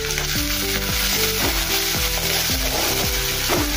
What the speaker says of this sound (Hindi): और साथ में थोड़ा सा हींग डालेंगे